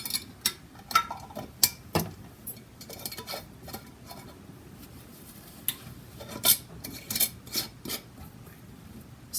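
A canning jar lid is screwed down finger tight onto a wiped jar rim of chicken broth bound for a pressure canner, giving a series of sharp metallic clicks and rasping scrapes, close and intermittent, with no talking.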